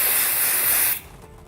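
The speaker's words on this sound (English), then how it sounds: "You clean the flange with an acetone-based cleaner." Acetone-based parts cleaner sprays onto a flange in a loud, close, steady hiss lasting about a second, then stops abruptly, leaving faint background noise.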